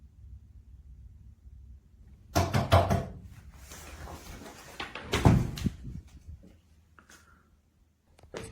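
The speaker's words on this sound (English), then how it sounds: "He was woken up by knocking again, went to the door" Several sharp knocks on an apartment door, heard close and loud in a quiet room at night, the first burst a quick cluster of raps and a second cluster following a few seconds later, with faint rustling in between.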